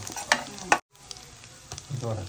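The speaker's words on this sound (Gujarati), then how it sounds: "હવે સિંગદાણા મસ્ત બરાબર શેકાવા દેવાના છે." Peanuts roast in a pan with cumin for sabudana khichdi, giving a close crackling sizzle with stirring scrapes, briefly cut off and then resuming, and faint voice in the background.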